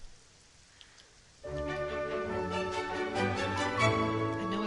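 Rain in the Baker's Life video game starts abruptly after a quiet moment and continues as a steady, even hiss over a soft tonal bed, with no talking.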